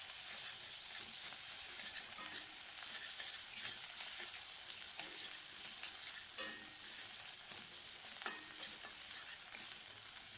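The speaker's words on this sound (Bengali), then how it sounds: "এবারে আবার এটাকে কিছুক্ষণ কষিয়ে নেব।" Fish with turmeric powder sautéing in a pan for a mustard-poppy fish curry, a soft continuous sizzle with frequent scraping strokes as it is stirred, fairly quiet and with no voices.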